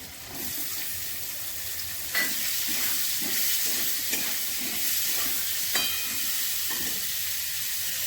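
Onions just added to potatoes frying in a pan hiss and crackle in a steady, close sizzle, punctuated by a few distinct clinks and scrapes of stirring against the pan, with no talking.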